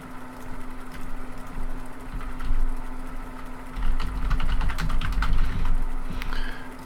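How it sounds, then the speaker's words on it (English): Frantic typing on a computer keyboard in the background, a fast irregular clatter of keystrokes over a low steady hum, growing busier toward the end. "as you may hear the typing, frantic typing away in the background"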